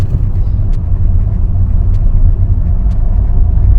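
Citroën C3 engine lugging at low speed in fourth gear, a steady low rumble heard from inside the car with a few faint ticks over the top.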